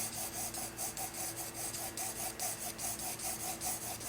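Graphite pencil shading on paper during a basic pencil drawing: a steady, close, raspy scratching made of rhythmic back-and-forth strokes, several per second, with no other sound.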